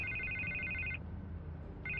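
A telephone rings inside a Batman video game on PS4, an electronic trilling ring that cuts off midway and starts again, heard over a low steady game soundtrack.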